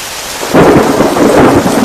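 Heavy rain and rumbling thunder fill an animated Hindi horror story, a loud, dense wash of downpour with a deep roll of thunder swelling midway and continuing without any voices.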